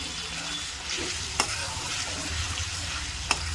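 Ginger and garlic sauté in hot oil for a chicken thokku, a continuous close sizzle with scraping stirs and two sharp spoon clicks against the pan.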